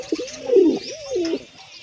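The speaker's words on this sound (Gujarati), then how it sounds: "અહીં આપણે લાલ કબૂતર જો મસ્તીમાં આવી ગયા કબૂતર" Red pigeons coo close by, two clear rising-and-falling throaty calls in quick succession, loud and alone with no voices.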